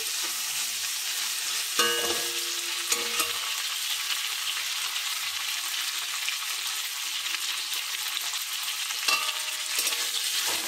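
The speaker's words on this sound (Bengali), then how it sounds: "কপিগুলোকে ভালোভাবে ভেজে নিই।" Cauliflower florets frying in a pan, a steady dense sizzle throughout with a few soft stirring scrapes and clinks near the two- and nine-second marks, close and even in level, with no talking.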